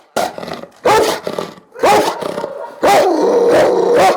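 A dog kept long-term at an animal shelter growls, roars and barks in several loud, close bursts separated by short pauses.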